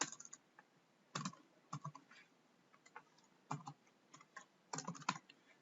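Computer keyboard typing code: irregular bursts of quick, crisp keystrokes separated by short pauses, close and fairly quiet, with no voices.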